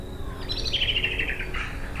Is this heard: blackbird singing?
yes